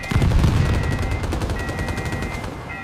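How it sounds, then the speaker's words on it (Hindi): Rapid gunfire rattles in a loud, continuous burst of closely spaced shots, with a heavy low-end blast at the start as part of a missile attack sound effect. "मिसाइलें आ रही थीं।"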